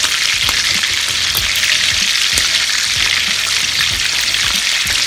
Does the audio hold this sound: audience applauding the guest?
no